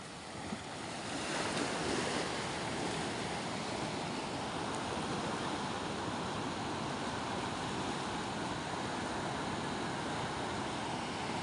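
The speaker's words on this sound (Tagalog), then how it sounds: "Ayan pang alon oh" Ocean waves surging and washing continuously, a dense steady roar with wind buffeting the microphone, loud and unbroken, no voices.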